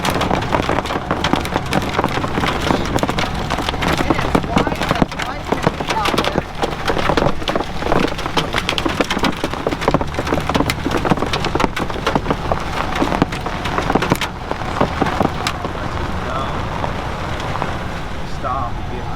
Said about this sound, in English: We got big old hailstorms. They're about quarter size.